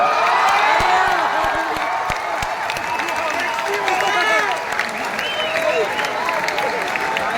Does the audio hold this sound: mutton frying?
no